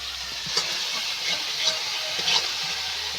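Chana masala spices stir-fried in hot oil, a close hissing sizzle punctuated by a few sharper scrapes and clatters of stirring across a short stretch, no speech.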